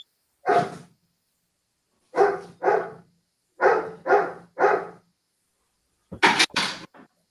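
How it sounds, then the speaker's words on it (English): A dog near an indoor exercise class barks in short bursts, single and in pairs and triples, with quiet pauses between them and a sharper cluster at the end. "that dog is giving you your pointers"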